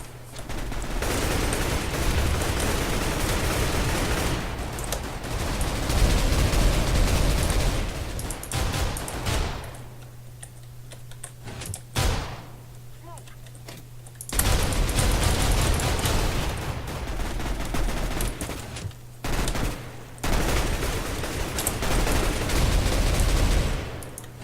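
Rapid rifle fire from a Minecraft shooter minigame, with AK-style guns crackling in dense bursts that stop and start across the clip, loud and close, with brief quieter gaps between volleys.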